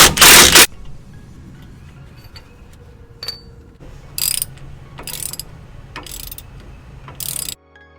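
Ratchet clicking in short bursts while 15 mm bolts are backed out of a strut on a GMC Sierra, with a loud clatter at the start and several brief metallic ratcheting runs spaced apart, fairly close.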